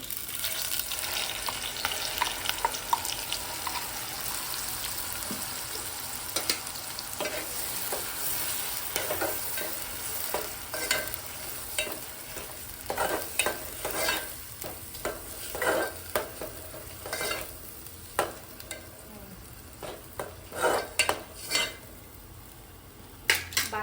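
Garlic fries in hot oil for a clam dish while a utensil stirs through it, a steady close sizzle broken by scraping knocks against the pan, with no talking.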